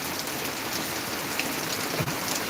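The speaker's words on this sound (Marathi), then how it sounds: "खूप पाऊस आहे" Heavy rain pours down steadily in a dense, even roar that holds at the same loud level throughout, with no voices.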